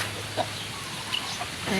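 Chickens cluck faintly around their small shelter, scattered short clucks over a quiet background with no talking.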